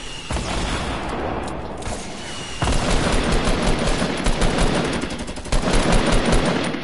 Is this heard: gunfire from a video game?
yes